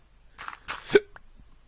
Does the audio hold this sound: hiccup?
yes